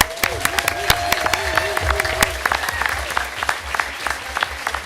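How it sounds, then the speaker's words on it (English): Audience applause at a school board meeting for the student representatives, a steady crowd of claps with some louder individual claps and faint voices mixed in. "I hope all the crowd will give us a big round of applause for our student representatives this year"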